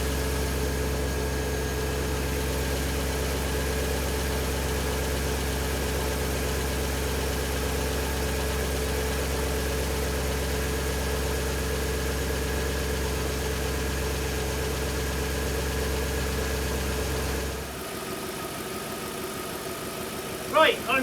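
An Audi S6 V8 engine, twenty years old and just repaired for a coolant leak, idles with a low, steady, even hum for a long stretch, then shuts off abruptly near the end, leaving near quiet.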